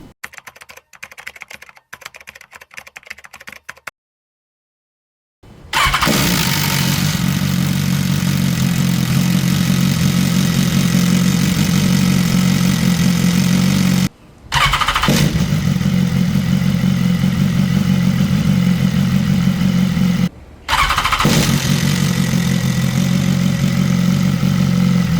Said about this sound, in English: Now we're gonna start the bike with a black cap